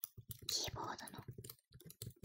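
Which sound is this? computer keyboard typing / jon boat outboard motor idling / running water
computer keyboard typing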